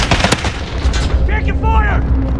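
Gunfire in Call of Duty Modern Warfare on PS5 with an FN MK 20 SSR (FN Scar 17) rifle: a few sharp, loud shots at the start, then booming battle noise and game voice chatter over a continuous low rumble.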